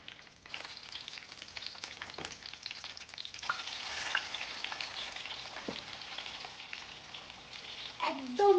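Hilsa fish pieces frying in a pan over low heat for a traditional Bengali dish, giving a steady soft sizzle with occasional scrapes and a louder clatter near the end.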